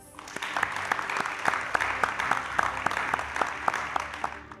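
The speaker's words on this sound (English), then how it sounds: "Let's give them a well-deserved round of applause." An audience applauds the two finalist colleges, Fatima College and Queen's Royal College, at a televised student competition. The sound is a moderately loud, continuous round of individual claps with sharp, distinct hand strikes running throughout.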